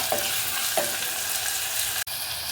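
Onion and ginger fry in a pan with a continuous bright sizzle, broken by two soft stirring scrapes near the start and a brief dropout near the end. No talking is heard.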